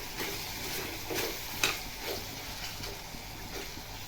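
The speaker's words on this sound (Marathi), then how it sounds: "2 मिनिटांनंतर आपण हे चांगलं हलवून घेऊया।" Spicy ridge gourd vegetable stirred in a pan, a steady sizzle and frying hiss with scraping stir strokes and one sharper clink partway through.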